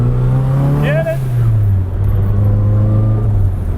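A 1970 Datsun 240Z fitted with an SR20DET engine runs with a loud, close, steady idle drone that shifts pitch slightly as it settles, with a short voice heard over it.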